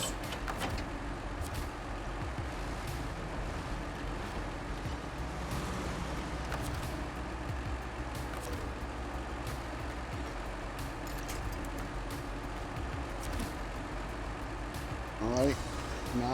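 Truck driving in the video game SnowRunner: a steady low engine drone with a brief hiss near the end, while someone talks over it.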